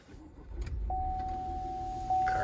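2020 Buick Encore GX Essence starting up, a low engine rumble swelling into a steady idle, with a sustained electronic tone from the cabin chiming over it.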